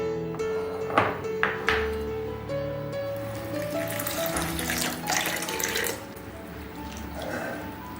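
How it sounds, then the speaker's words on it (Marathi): Lentils washed under a running kitchen tap while preparing Nilanga rice: a steady gush of water into a sink, with a few sharper splashes and clinks early on, close and continuous throughout. "याच प्रकारे मी आता ही डाळ पण धुवून घेणार आहे"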